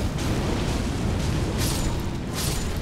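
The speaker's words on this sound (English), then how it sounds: "just throw a fire pot" A fire pot thrown in Elden Ring bursts into a roaring, sustained blast of flame, loud and dense throughout with no pauses or voices.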